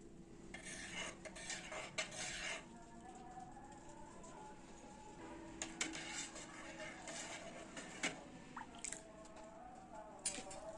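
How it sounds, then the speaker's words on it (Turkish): Milk with cheese rennet being stirred in a pot for homemade village cheese: a spoon scrapes and clinks against the pot in irregular close bursts, with a steady low hum beneath and no talking. "Bir yemek kaşığı silme peynir mayasını ilave ettikten sonra güzel bir şekilde karıştırıyorum"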